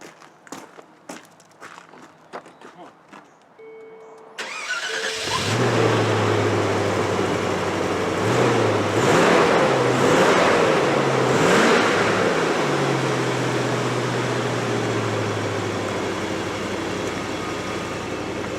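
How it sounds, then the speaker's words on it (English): A Land Rover Discovery 2 fitted with a new Magnaflow exhaust cranks and starts after a few quiet clicks and footsteps, then settles into a loud, steady idle with a brief rev-like rise partway through. "Well, with the exhaust on, let's see what it sounds like."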